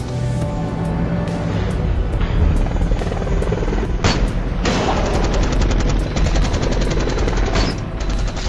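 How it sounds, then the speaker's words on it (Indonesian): A helicopter's steady rotor thrum fills a film scene while rapid bursts of its machine gun fire rattle over it, loud and close. "mereka terlebih dahulu dihujani oleh peluru helikopter itu"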